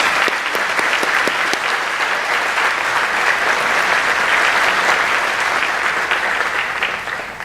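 Sustained, loud applause from an audience at a school awards day congratulating seniors, steady clapping filling the room and tapering off at the end.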